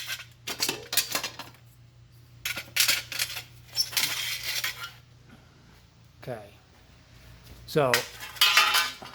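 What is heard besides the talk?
metal car trim rings being handled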